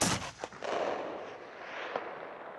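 A single rifle shot during cold bore zeroing for bear season cracks loudly at the start, and its long echo rolls away and fades over the following seconds.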